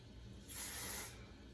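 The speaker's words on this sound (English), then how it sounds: "lift this up and lightly spray it" One short, steady hiss of hairspray, about half a second long, close and fairly quiet against a faint low hum.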